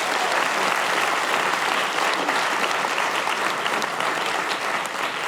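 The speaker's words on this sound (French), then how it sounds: "Donc on peut les applaudir." An indoor audience claps steadily for several seconds, a dense, even wash of applause with no voices standing out.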